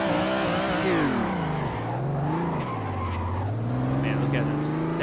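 A drift car in the Assetto Corsa racing sim holds a long, loud tire squeal as the engine revs rise and fall through the slide. The whole clip is continuous and up close.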